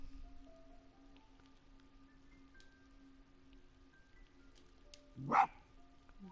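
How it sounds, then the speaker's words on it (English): A fox character in the video game Spirit of the North gives a single short, sharp bark near the end, rising out of quiet ambient game sound with faint tones. "Bark."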